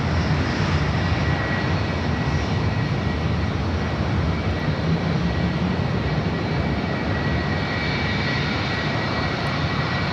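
An ANA Boeing Dreamliner jet takes off from an airport runway, its engines a loud, steady broadband roar that holds constant throughout without any pause.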